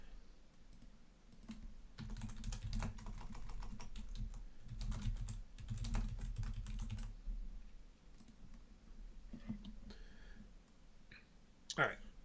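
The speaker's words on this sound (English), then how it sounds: "I'll get to hear more typing." Steady computer keyboard typing runs through most of the stretch, close and fairly soft, with scattered key clicks and brief speech near the end.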